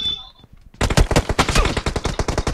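Rapid automatic Tommy gun fire in a battle-royale shooter game, a dense rattling burst of shots after a brief quiet moment, loud and close, continuing steadily to the end.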